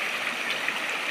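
Clear river water flowing steadily, a continuous bright rushing wash with no breaks, close and fairly loud, heard on its own without voices.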